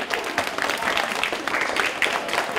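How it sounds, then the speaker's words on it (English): Audience applause in a school gym during a middle school band and orchestra recruitment visit at an elementary school, steady clapping from a crowd filling the space without a break. "Round of applause, round of applause."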